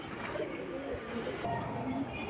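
Silver flying pigeons cooing softly amid continuous broadband background noise, a brief faint coo or two barely above the din.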